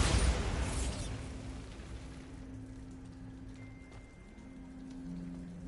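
A Bombarda explosion spell in Hogwarts Legacy on PS5 bursts with a loud, broad blast at the start, then fades into a rumbling decay with a low steady hum and faint tonal ringing trailing on afterward.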